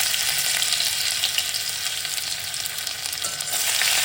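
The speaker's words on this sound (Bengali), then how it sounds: "এবার দিয়ে দেব বাটা আদা বাটাটা।" Ginger paste goes into oil already frying whole cumin and nigella seeds, a continuous bright sizzle and crackle filling the pan with slight stirring, no speech.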